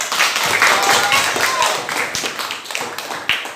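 A classroom of students claps for the second group after a lesson, a short burst of uneven hand claps with a few sharp, distinct slaps standing out near the listener as the clapping thins and fades.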